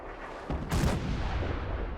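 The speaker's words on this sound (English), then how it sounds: "it just gets fucking blown up by the artillery" Artillery fire in a Fallout 4 battle, with a heavy blast bursting in around halfway through, followed by sustained rumbling booms over a dense background of combat noise.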